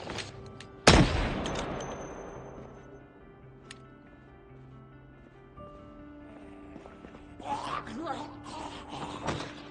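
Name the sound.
gunfire from shooting in video game Project Zomboid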